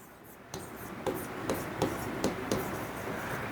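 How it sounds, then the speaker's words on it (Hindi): Marker or chalk scrapes across a classroom board during a maths lesson on sets, with short strokes landing in a steady rhythm of about one every half second, close by in a quiet room. "सेट लिखता हूं आपके सामने"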